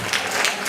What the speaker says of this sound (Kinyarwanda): tumukomera amashyi menshi cyane